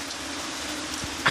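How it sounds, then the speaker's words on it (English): Steady rain falling on plants and tomato crops in the countryside of rural Jamaica during May, a continuous soft hiss with a couple of brief louder knocks near the end. "Every viewer, look at the rain falling."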